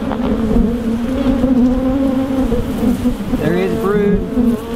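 Honey bees buzzing around an opened hive box, a dense, steady droning hum close by with a few individual bees whining past near the end, and no speech.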